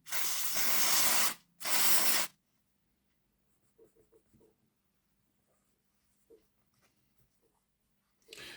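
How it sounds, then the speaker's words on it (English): Cleaner spray on the wheels of a Hornby Class A4 model locomotive: two loud hissing bursts close up, each about a second long, followed by faint small clicks and handling noises. "we'll give these wheels a good scoosh and a clean"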